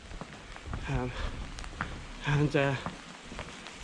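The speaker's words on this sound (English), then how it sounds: "we can get out of the rain" Rain falls steadily during a storm outdoors, a continuous close hiss of drops that runs beneath someone talking.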